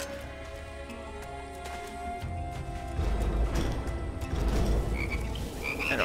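Frogs croak in a steady chorus in the video game Immortal Redneck, low repeated calls overlapping, joined later by a patter like rain and brighter chirps.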